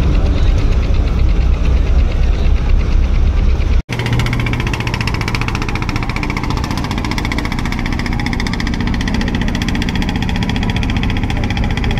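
The engine of the Sundarban 16, a large passenger launch on the Barishal to Dhaka river route, runs up to speed in a loud, close, continuous drone with a momentary cut early on.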